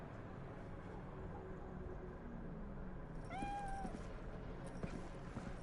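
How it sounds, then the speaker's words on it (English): A cat meows once inside Cyberpunk 2077, a short rising-then-falling mew that is fairly clear over a low, steady game ambience hum. "Oh, hey, look, a kitty, and you can pet the kitty too."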